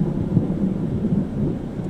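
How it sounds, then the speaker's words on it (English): Deep, continuous rolling thunder rumbles steadily through a rainstorm, loud and sustained with no distinct claps, filling the whole stretch on its own. "Rant number one kind of ties into"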